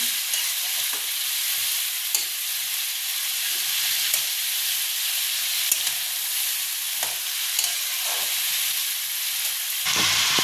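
Shredded cabbage sizzles and hisses steadily while being stir-fried in a kadai, with occasional scraping and stirring clicks, close and continuous.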